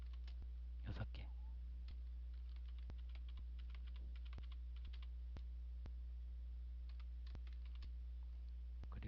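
Someone taps the spacebar of a computer keyboard with a series of soft, isolated clicks spread at uneven intervals over a quiet steady hum, close but faint.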